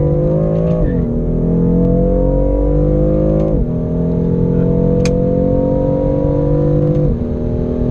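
A BMW M4 accelerates hard, its engine note climbing steadily and dropping sharply at each upshift, three quick gear changes in a loud, close, continuous pull with no talking.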